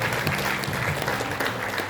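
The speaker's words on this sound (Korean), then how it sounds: "우리 유진석 대표님께 다시 한번 큰 박수 부탁드리겠습니다" Audience at a political academy lecture in Daejeon clapping for a guest speaker, a short burst of close, dense applause with faint crowd murmur beneath.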